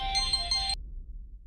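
A phone rings with an incoming call in a Hindi TV serial scene, a bright electronic ringtone playing for under a second before cutting off into quiet.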